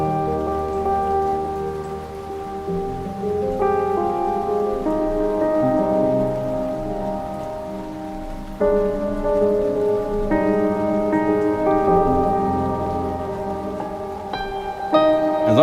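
Rain recorded in Costa Rica patters as a soft, continuous hiss beneath sustained piano chords that change every few seconds, with no voices.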